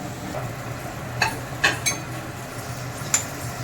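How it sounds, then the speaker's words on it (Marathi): Crumbled leftover chapati being sautéed into spicy churma in a pan, with a handful of sharp spoon clinks and scrapes against the metal over a low, steady kitchen background and no talk. "याला असं परतून घ्यायचं"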